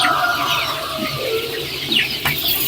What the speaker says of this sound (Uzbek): bu tarafdagisi o'sha bir oylik atrofida bo'lib qolganlari